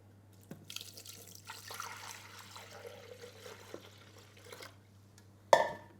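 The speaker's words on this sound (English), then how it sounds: "We cover the blades with water." Water pours into a Thermomix bowl over its blades, a soft, faint rushing splash lasting a few seconds, followed by a short sharp clink.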